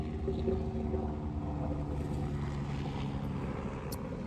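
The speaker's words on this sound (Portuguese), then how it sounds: "Passando um helicóptero aqui." A helicopter passes overhead outdoors, heard as a steady low rotor rumble that holds at a constant level throughout with no speech.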